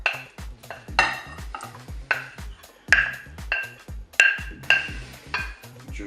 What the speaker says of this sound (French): Je vais ajouter tous les ingrédients dans le saladier de pommes de terre.